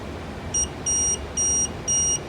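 Four evenly spaced electronic beeps from an alarm during a P40 reed switch test, each a short steady high tone repeating at a brisk rhythm over faint background hiss.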